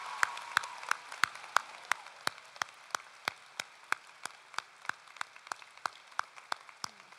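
Sparse, evenly spaced claps from a small group at a 2022 community college commencement ceremony, sharp single hits about three per second, fairly close and isolated against a quiet hall.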